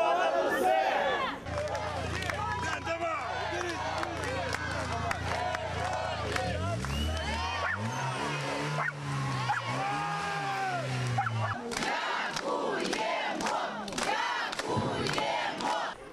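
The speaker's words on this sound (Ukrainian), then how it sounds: "Співали гімн України і вигукували патріотичні гасла" A large crowd of people welcoming home soldiers sings the Ukrainian anthem and chants patriotic slogans, voices massed and loud outdoors, with a deep sustained vocal drone under shouting and cheering throughout.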